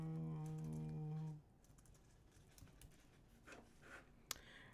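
A computer keyboard that is acting up gets typed on in faint, irregular clicks and taps, following a loud sustained tone that cuts off at the start.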